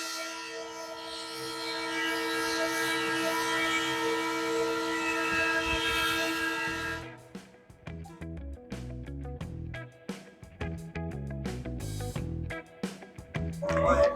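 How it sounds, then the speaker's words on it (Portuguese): The Maria Fumaça steam train at the Anhumas railway station in Campinas sounds a loud, sustained whistle for about seven seconds, then cuts off and gives way to softer, uneven rhythmic sounds. "Vou fazer um passeio muito legal de trem com a Maria Fumaça"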